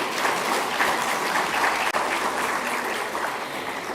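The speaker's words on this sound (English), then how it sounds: "Can we have a big round of applause to welcome him?" Sustained audience applause at a trade plenary session as a government minister is welcomed: a dense, even wash of many hands clapping, moderately loud throughout, with no speech over it.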